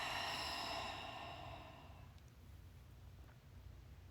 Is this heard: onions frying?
no